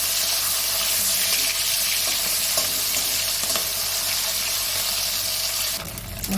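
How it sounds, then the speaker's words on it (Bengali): A hilsa fish head fries in hot oil with a loud, close and steady sizzle that runs unbroken for about six seconds before shifting briefly at the end. "মাছটা ভাজা হয়ে গেছে"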